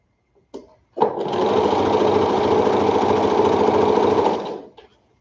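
Sewing machine stitching quilt pieces, a short start then one steady loud whirring run of about three seconds that winds down and stops, with a faint click after.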